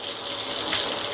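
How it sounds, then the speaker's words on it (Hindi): Rice poured into a pot of hot water during biryani preparation, a steady close rushing, splashing wash lasting about a second with no talk. "राइस डाल देती हूँ।"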